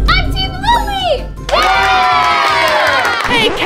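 Children shout and cheer for a team at a school quiz contest, a loud excited group burst that swells after a short pause and holds to the end, with kids' voices calling out.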